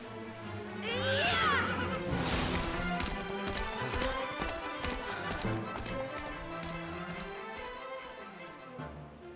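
A horse gallops in the Dragon Quest XI video game, a rhythmic run of hoofbeats alongside game music and effects, moderately loud, with a sharp rising effect near the start.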